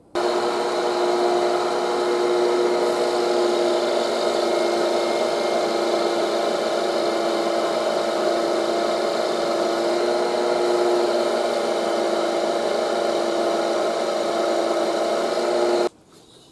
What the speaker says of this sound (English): we're going to put it into the chuck and we're going to start boring out